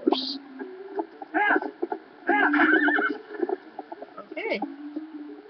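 A horse neighs and whinnies repeatedly in The Legend of Zelda: Twilight Princess, with clopping hooves and short bursts of vocalization, fairly close.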